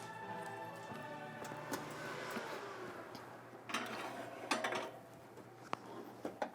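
A muffin pan of French breakfast puffs slid into a home oven, a few scattered metallic clatters and knocks in the second half, close and fairly soft, over a quiet kitchen hum.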